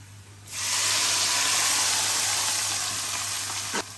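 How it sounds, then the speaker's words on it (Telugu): Hot tempering oil poured onto a tamarind and green chilli chutney, bursting into a loud, steady hiss that lasts several seconds and slowly fades, with a faint clink near the end. "ఇప్పుడు స్టవ్ ఆపేసి తాలింపు వేపించిన నూనె అంతా ఇందులో పోసేద్దాం"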